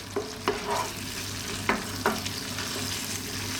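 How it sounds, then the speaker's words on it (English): A spoon stirs a mushroom, bell pepper and tomato pasta sauce in a pan, soft bubbling simmer beneath a handful of distinct scraping knocks, close by and unaccompanied by speech. "Give it a stir every now and then"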